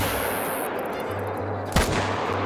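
A hunting rifle shot cracks loudly and close against steady outdoor ambience while hunting Rocky Mountain goats in theHunter: Call of the Wild.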